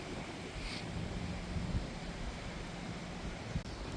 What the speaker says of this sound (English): the wind is relentless, but at least the sun is out